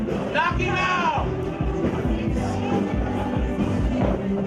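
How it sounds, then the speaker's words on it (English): A wrestling crowd cheers and whoops with loud, sustained hubbub at a Sideshow 13 match, steady throughout, with commentators talking over the noise. "Crowd is really into this."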